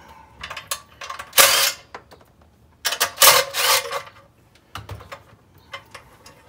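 An 8 mm socket wrench takes off the recoil cover on a Predator 212 small engine, giving bursts of close mechanical ratcheting and clicking with brief metallic rattles between quieter pauses.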